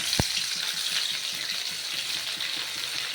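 Garlic and nigella seeds drop into very hot oil and sizzle strongly, a continuous bright frying hiss with a faint utensil tap near the start.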